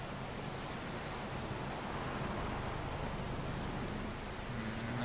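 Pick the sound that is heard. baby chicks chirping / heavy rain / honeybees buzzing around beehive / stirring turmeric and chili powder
heavy rain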